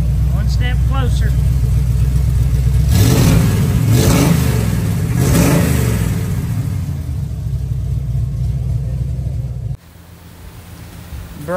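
A 1978 Ford Bronco engine runs steadily at close range, rising through two or three revs midway before settling, then cutting to a quieter idle near the end, with people talking over it.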